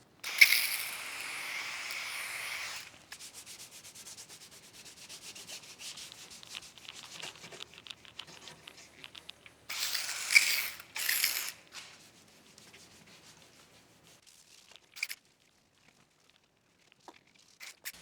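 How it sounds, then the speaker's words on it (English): A clay bar rubbed over car body paint lubricated with Optimum No Rinse waterless wash to lift primer overspray, giving a steady, close, gritty scrubbing hiss in repeated strokes with brief pauses, softer towards the end. "I'm gonna use Optimum No Rinse waterless wash to hit the clay bar over all this area"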